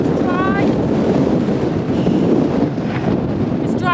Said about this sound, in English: And as you can tell, it is very, very windy. In bursts.